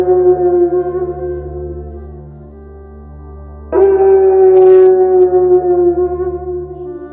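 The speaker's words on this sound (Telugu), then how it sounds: "మెల్లిగా నక్కల ఊలలు వినిపిస్తున్నాయి దూరంలో." Jackals howl in the distance: two long, sustained, wavering cries, the second starting abruptly partway through and louder, over a low steady drone.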